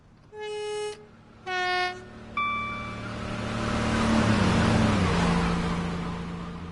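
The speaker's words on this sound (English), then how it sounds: "And we'll watch it fly through." A Great Western Express train in Train Sim World 2 sounds two loud horn blasts, then roars past near West Drayton, its rumble swelling to a peak and slowly fading.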